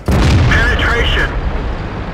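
An enemy tank blows up in the tank game Internet Tankz with a loud, close explosive burst and rumble. A voice speaks over the blast, and the noise fades into a lingering low rumble.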